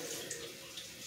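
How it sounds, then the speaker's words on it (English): Water poured into a pot of curry shrimp on the stove, a faint, steady rush of running liquid lasting about a second with no talk over it. "We add some water to this and bring it down to a boil"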